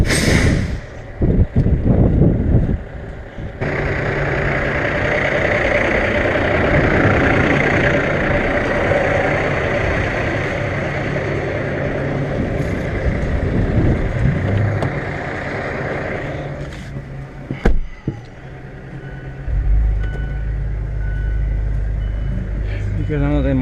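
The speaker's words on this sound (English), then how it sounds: "I think I need to go move my car." A parked car's engine runs close by at a steady idle, its low rumble joined by a few clunks and knocks, with a deeper, heavier rumble swelling near the end.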